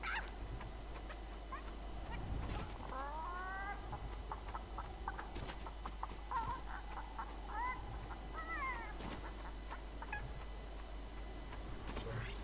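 A chicken in a video game gives short, chirpy clucks, faint and scattered over a steady low hum, with small clicks and taps in between.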